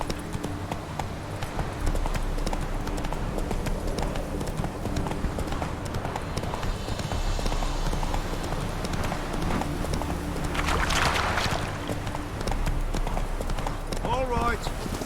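A horse galloping in The Witcher 3: Wild Hunt, with steady rhythmic clip-clop hoofbeats running throughout under game ambience and a voice.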